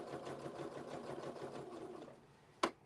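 A sewing machine backstitches fabric pieces together, giving a rapid, steady close whirring that slows and stops, followed by a single sharp clack.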